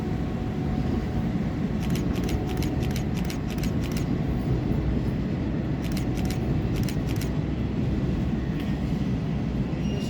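A Class 350 passenger electric train rolls through Stafford station on the West Coast Main Line, a steady loud rumble of wheels on track with rhythmic clicks as the carriages pass over rail joints.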